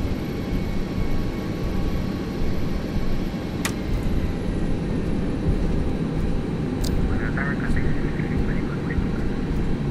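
Airliner engines roaring steadily during a takeoff roll in the Prepar3D flight simulator, a Philippine Airlines flight from Manila to Cebu, a continuous loud rumble throughout with faint radio voices over it.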